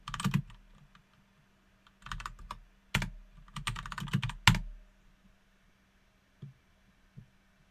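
Keys clatter on a computer keyboard in short irregular bursts while a git clone command is typed, close and fairly quiet, with pauses between runs of keystrokes and no talking.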